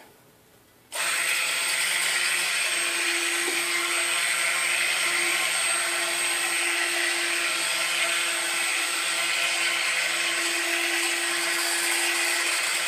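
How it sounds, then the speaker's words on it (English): A stick blender mixing soap batter for a shampoo bar switches on and runs with a steady, high-pitched motor whine, close by and unbroken for the rest of the clip. "So here we go with the stick blender."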